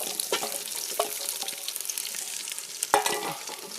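Square-cut onions frying and being stirred in a pan for a Kerala-style chicken curry, a steady close sizzle with scattered spoon scrapes and a sharper clatter near the end, no voices.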